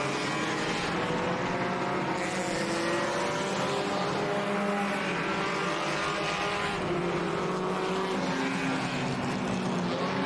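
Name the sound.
front-wheel-drive enduro race cars racing at Orange Show Speedway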